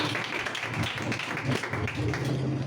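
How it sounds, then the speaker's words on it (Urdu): A church congregation applauding loudly for Jesus Christ, a dense, continuous wash of clapping from many hands that fills the whole short stretch, with a voice faintly underneath. "یسوع مسیح کے نام کے لیے، اس کے رحم کے لیے زوردار تالیاں بجائیے"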